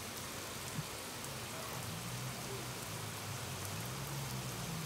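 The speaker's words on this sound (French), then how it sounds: "Je vous laisse admirer la pluie" Torrential rain pouring down in Lille, a dense, even hiss of water on surfaces, steady and unbroken throughout, with no voices.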